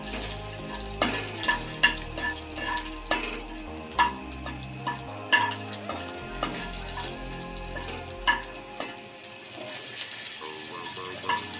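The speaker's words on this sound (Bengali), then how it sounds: "এবার কালো জিরেটা ভাজা হয়ে গেছে, স্মেল বেরিয়েছে।" Black cumin and a green chilli fry in leftover fish oil, giving a steady sizzle broken by repeated clinks and stirs of a spatula against the pan, with a faint running-water sound underneath.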